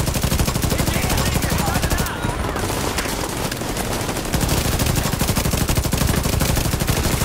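Rapid automatic gunfire rattles in The Division 2, a loud, steady stream of shots that thins briefly midway before hammering on again, with someone talking underneath the shooting.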